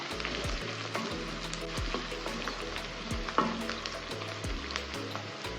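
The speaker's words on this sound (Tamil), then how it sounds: "வெங்காயம் ஒரு 2 நிமிஷத்துக்கு வதங்கட்டும்" About 100 grams of cut small onions sautéing in hot oil, a steady sizzle broken by repeated scraping stirs of a spoon in the pan, no talking.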